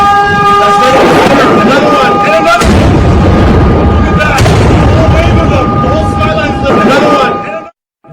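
Missile strikes in Jerusalem: loud booming blasts and rumbling explosions, with a sharp burst near three seconds and another around four and a half, over continuous noisy background and sustained tonal wailing like a siren, ending abruptly.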